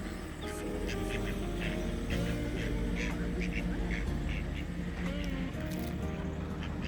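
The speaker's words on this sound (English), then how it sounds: "Our pet ducks." Pet ducks quack in a busy outdoor campsite scene in the New Forest, steady and fairly close, with a constant wash of background noise and occasional voices.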